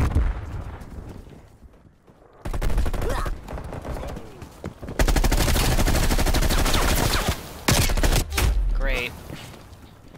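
Rapid automatic gunfire bursts from the Call of Duty: Cold War video game in a Hardpoint match, loud, dense volleys with short gaps, and a player's voice briefly speaking over the shooting.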